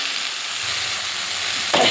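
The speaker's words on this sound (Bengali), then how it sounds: "এবারে ভালো করে ঢেঁড়সটা কষিয়ে নেব" Okra stir-frying with cumin, coriander and turmeric in a hot pan, a steady close sizzle and hiss throughout with a louder burst of frying near the end, heard without talk.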